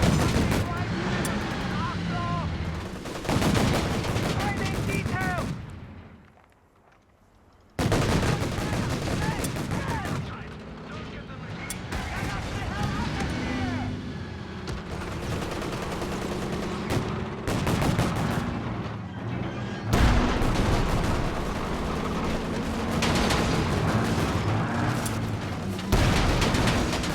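Gunfire in Company of Heroes 3, a World War II strategy game with German forces: dense rolling bursts of shots and booms come almost continuously, loud and layered, with a brief lull partway through.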